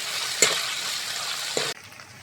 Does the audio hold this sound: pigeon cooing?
no